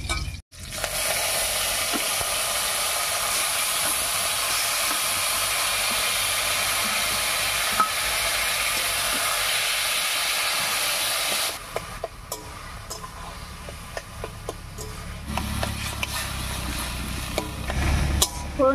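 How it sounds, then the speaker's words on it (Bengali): Boiled taro greens tossed into hot tempering with green chillies in a pan, a loud continuous sizzle and hiss that eases after about eleven seconds into softer frying with stirring clinks. "ফোড়নের উপরে কচু শাক দিয়ে একটু নাড়িয়ে নিয়েছি।"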